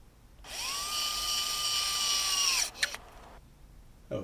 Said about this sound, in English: the next thing you're going to do is put the screw back into that board.